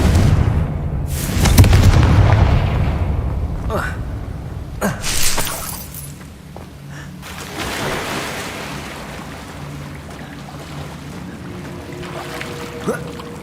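Confringo blasting spell in the Hogwarts Legacy video game, with a couple of deep booming bursts and a rumbling tail over ambient wash, while a voice talks across the clip.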